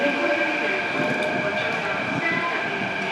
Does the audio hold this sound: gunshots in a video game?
no